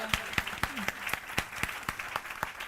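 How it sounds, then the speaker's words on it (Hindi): A church congregation at a birthday celebration for a reverend claps together in a steady, evenly spaced rhythm of sharp hand claps, loud and filling the hall, with no talking over it. "एक बार जोरदार तालियां बजाइए"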